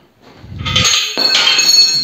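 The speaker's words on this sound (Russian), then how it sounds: "Ключик упал." A small metal wrench falls to the floor in a workshop where a press is being built, making a loud, bright metallic clink followed by a ringing clatter as it bounces and settles.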